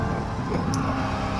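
A Chevrolet C7 Corvette ZR1 engine pulls hard under power in third gear, a loud, dense low rumble that holds steady from inside the car, with no talking.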